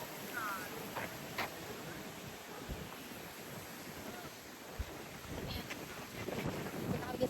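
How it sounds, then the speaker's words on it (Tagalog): Strong, cold wind buffets the microphone in a park in a continuous rough rumble, gusting stronger toward the end, with faint sounds of people in the background. "Sobrang hangin. Sobrang lamig din."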